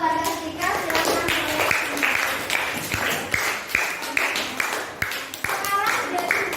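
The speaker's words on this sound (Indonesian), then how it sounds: "Tepuk tangan dulu untuk kelompok Mbak Kasika" Classroom students clap for a group, a run of loose, uneven hand claps with sharp individual smacks, while children's voices and chatter carry over the clapping throughout.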